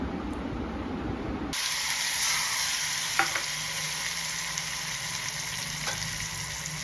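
Spices for a sev tomato curry hit hot oil, bursting into a loud, steady sizzle and hiss that continues throughout, with a few faint clinks of a utensil against the pan and no voices.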